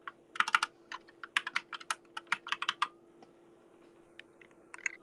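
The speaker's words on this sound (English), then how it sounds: "The sounds of these keyboards that we hear on Twitter Spaces is amazing." Rapid, irregular keystrokes on an expensive computer keyboard, crisp clicky taps in quick bursts, then sparser presses, close and clear over a steady low hum with no talk.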